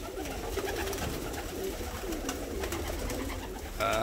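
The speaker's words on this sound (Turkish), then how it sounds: "Kuşlar şıkır şıkır." Fancy pigeons coo repeatedly in a crowded coop over a dense, steady murmur of many birds, close and continuous throughout.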